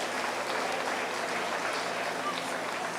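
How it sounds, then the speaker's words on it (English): Audience applause for the champion at a 4-H meat goat show in Allen County, a steady wash of clapping from a crowd, fairly near and continuous throughout. "Give him a round of applause"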